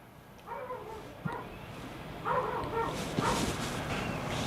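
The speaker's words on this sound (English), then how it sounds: "your dog is barking at the door." A dog inside a house barks at the door in a few short, muffled bursts, heard from outside at moderate distance and fairly faint.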